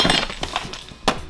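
A glass goblet is handled, giving a series of sharp clinks and knocks, several light taps and a louder clatter near the end, close and clear with no talking.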